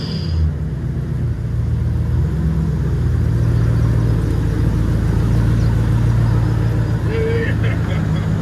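A Chevy Avalanche with a 5.3L V8 and true dual exhaust idles and rumbles loudly and steadily up close, a deep continuous drone with a slight swell near the middle, while a person talks briefly over it.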